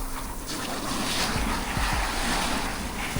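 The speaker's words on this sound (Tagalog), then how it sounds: "Lalakas ng malalakas yung mga alon sa Real." Sea waves roll in at Real on a rainy day, a loud, continuous surf with broad rushing noise and some wind buffeting the microphone, no talking.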